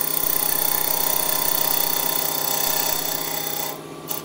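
A small spindle gouge cuts a wooden bottle stopper on a lathe, giving a steady, close scraping hiss with a faint rhythmic rub from the spinning wood, which stops abruptly near the end.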